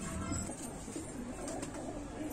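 Pigeon cooing softly and continuously in a loft or cage kept as one of four pet pigeons, a low steady murmur over faint background noise with no talking.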